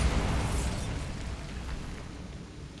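Incendio fire spell cast in Hogwarts Legacy, a loud fiery burst with a roaring rush that fades slowly into a low rumble and crackle.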